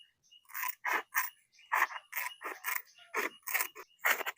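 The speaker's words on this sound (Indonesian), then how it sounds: "kemudian ini dipotong ya menggunakan gunting" Scissors snip through sandpaper in a quick series of about a dozen crisp, scratchy cuts, close up with no talking.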